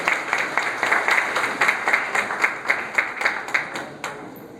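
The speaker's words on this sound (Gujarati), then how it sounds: "મોટી સંખ્યામાં તાળીઓથી અમને વધાવી લેશો." Audience at a cooperative conference on international partnerships applauds to welcome guests from abroad, rhythmic clapping with regular sharp beats holding steady and then thinning out toward the end.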